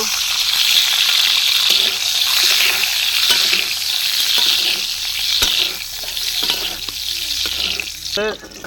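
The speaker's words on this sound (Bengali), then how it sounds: "এবার আমরা ডিমগুলোকে হালকা করে ভেজে নেব" Eggs frying lightly in a pan for egg biryani, a steady close hiss that sits loud and continuous throughout, with a few brief clicks and a short scraping near the end.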